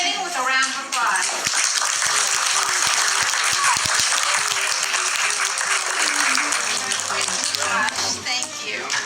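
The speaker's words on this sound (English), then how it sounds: "let him know that he will be graduating with a round of applause" A school audience applauds a senior's graduation presentation, loud sustained clapping filling the room, with voices and cheering mixed in throughout.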